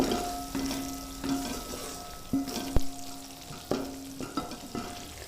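Masala with mint leaves frying on a slow flame in a pan, a soft steady sizzle broken by repeated spoon scrapes and stirring clinks, close up.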